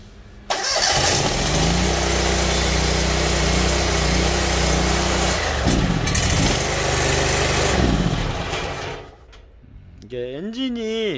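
A Honda engine on a 350-bar, 22-litre pressure sewer jet washer cranks and catches, then runs with a loud steady drone that briefly dips and recovers before fading out, followed by someone talking.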